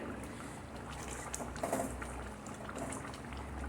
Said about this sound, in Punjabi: ਸਬਜ਼ੀ ਨੂੰ 8-9 ਮਿੰਟ ਹੋ ਗਏ ਸੀ ਰਿੱਝਦੀ ਨੂੰ